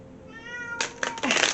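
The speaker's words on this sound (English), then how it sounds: "that's Smokey meowing." A cat gives a drawn-out meow, and a second, louder and rougher meow follows straight after. The sound is close and fairly clear.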